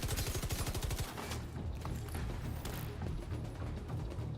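Rapid gunfire from The Division 2 video game, a fast burst of dense automatic shots at the start, then continuous clattering, mechanical combat noise running steadily at loud level.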